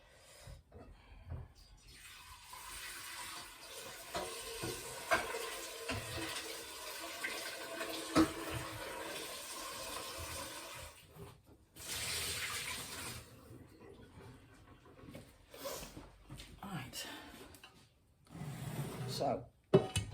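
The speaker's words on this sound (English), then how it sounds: "Let me just give the saucepan a quick swim out because I want to use the same saucepan" Running tap water rinses out a saucepan in a home kitchen during tomato soup canning, a steady splashing stream with sloshing, clinks and brief pauses, close and continuous for most of the clip.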